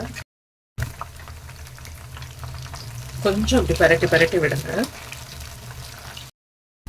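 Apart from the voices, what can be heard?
mushrooms frying in a pan for mushroom pakoda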